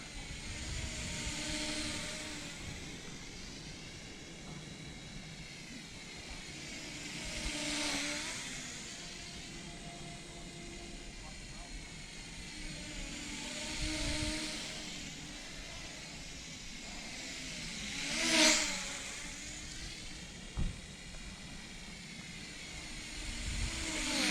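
An iBase Toy H816H quadcopter drone hovers and flies with a steady high-pitched propeller whine that swells and fades in repeated slow passes, alone with no talk.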